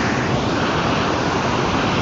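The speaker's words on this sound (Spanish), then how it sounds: "chorrito de agua que tira" Steady, dense rush of water from El Chorro de Mene Mauroa, a small gushing jet heard up close, loud and continuous without pause or voices.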